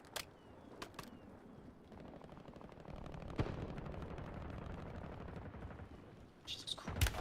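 Rapid bursts of gunfire in a shooter video game, with steady machine-gun rattle running under the whole stretch and sharper close shots breaking through near the start and end.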